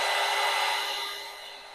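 A hair dryer blows hard on wet watercolour paint, a loud whooshing roar that holds steady, then gradually fades as it moves away or powers down.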